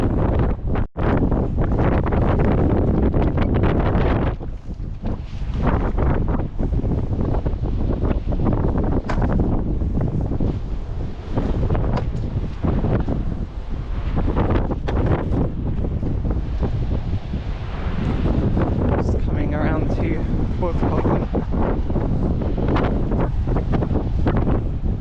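Strong coastal wind buffets the microphone on a windy, sunny coast walk between Wadebridge and Newquay, a loud, steady roar with gusty surges running the whole time and no talking.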